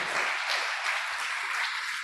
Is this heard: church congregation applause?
yes